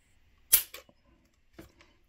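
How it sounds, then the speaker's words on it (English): A Smith & Wesson M&P Shield Plus pistol's trigger is pulled against a lineman's scale, giving a sharp dry click followed by a few faint mechanical clicks and a softer reset tick, close and isolated in near silence. "now let's check out the trigger pull on our lineman scale here."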